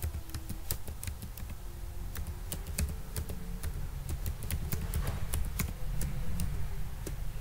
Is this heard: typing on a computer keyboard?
yes